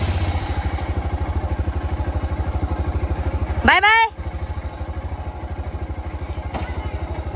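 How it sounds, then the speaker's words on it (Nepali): A Royal Enfield Scram 411 motorcycle idles close by with a steady, rapid low thumping. A brief loud clattering burst breaks in partway through, then the idle carries on. A voice speaks briefly over the engine. "म चाहिँ बाइक अघि नै निकालेको थिएँ"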